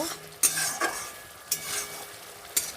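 Spices and sugar sauté in oil in a pan, making a soft continuous sizzle broken by four sharp spatula scrapes and knocks against the pan at irregular intervals.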